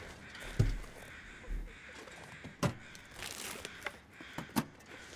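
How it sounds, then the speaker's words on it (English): Crows cawing in the video game The Long Dark, several harsh calls spaced irregularly over a faint outdoor wind bed, a few landing louder and nearer than others. "These birds are so annoying."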